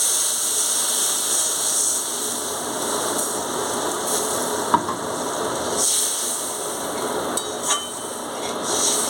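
Water added to a pan of fried masala for a pomfret curry sets off a steady, loud hissing sizzle that continues throughout, with a couple of faint clicks.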